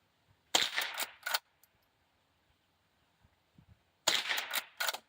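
Two separate bursts of sharp, rapid reports from a Marlin 39A .22 rifle, each a quick cluster of cracks, fairly near, with quiet in between.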